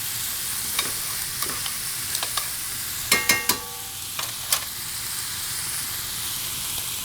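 Tomato paste with onions and celery toasting in a pan gives a steady close sizzle, broken by scattered clicks and a quick run of sharp scraping knocks from stirring in the middle.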